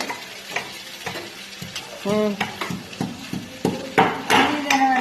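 Curry frying in hot oil in a pan, with bursts of sizzling and scraping stirring strokes and clinks of a utensil against the pot, up close, with brief faint voices mixed in.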